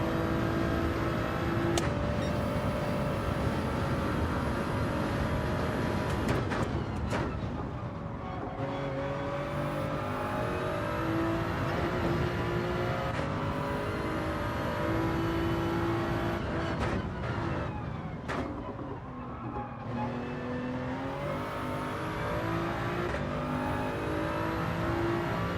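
Race cars, including a BMW, roar around a track in Gran Turismo 7, with engines continuously whining and revving, shifting pitch through gear changes and cars passing close by, with no talking.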